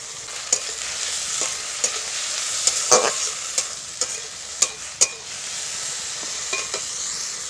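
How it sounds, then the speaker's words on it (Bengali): Bottle gourd being stirred in a frying pan with soaked mung dal, a steady sizzle under repeated sharp spatula scrapes and knocks against the pan, close and fairly loud. "লাউটা দিয়ে কিন্তু আমি ভালো করে কিন্তু নেড়ে চেড়ে দিচ্ছি"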